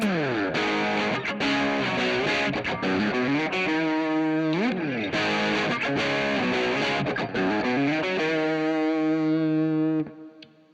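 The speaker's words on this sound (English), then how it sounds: "we're gonna start on the bridge pickup with a little bit of dirt" An Enya Nova Go Sonic electric guitar on the bridge pickup with mild overdrive plays sliding chords and riffs, gritty and sustained, ending with a ringing chord that fades out.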